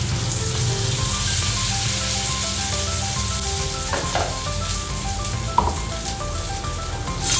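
Sabudana (tapioca pearls) tossed into a pan with chillies sizzles and crackles steadily and loudly throughout, with a few sharper pops and stirring scrapes near the end.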